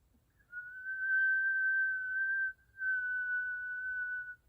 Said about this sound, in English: we're going to do that whistle breath